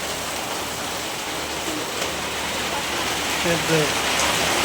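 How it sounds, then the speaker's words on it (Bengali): Heavy rain pours down steadily in a village, a dense, continuous hiss of drops on surfaces that swells slightly toward the end, with a faint voice briefly audible under it. "ভারী ভীষণ বৃষ্টি"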